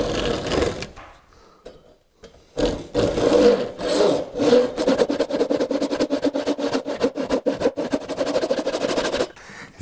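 Hand saw cutting wood for the frame of a tool cabinet door, made with traditional joinery methods: after a short pause, steady rhythmic back-and-forth strokes rasp close and loud for several seconds, with no talking.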